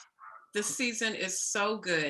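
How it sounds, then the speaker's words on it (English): A pet dog yips and whimpers in short bursts close by, overlapped throughout by a person talking. "I apologize for my dog going crazy."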